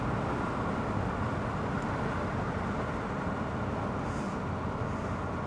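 A BMW Z3 roadster with a four-cylinder engine on the move, giving a steady, dense drone of engine and road noise from inside the car that holds an even loudness throughout, with no voices.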